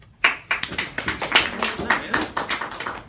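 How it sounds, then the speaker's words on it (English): A small group claps after a water demonstration, with about a dozen distinct, uneven claps close by, each one sharp. "Round of applause, Mike."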